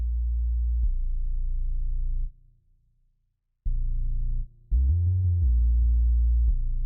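Analog Lab Dubsub synthesizer preset plays a short repeating pattern of deep, sustained bass-heavy tones, with a brief gap of near-silence and a few brighter, gliding notes, loud and alone with no voices.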